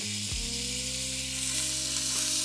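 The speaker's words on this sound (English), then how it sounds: "And we're gonna put our bacon in." Bacon sizzling in a hot pan at medium heat, a loud, steady close-up hiss that holds without break, with a low hum running underneath.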